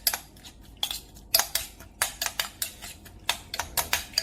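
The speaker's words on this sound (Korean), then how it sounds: "설탕이 녹게 잘 섞어주시면 됩니다" A utensil clinks and scrapes against a bowl while stirring soy dipping sauce with green onion and sugar, a quiet, irregular series of close metallic taps and clatters with no talk.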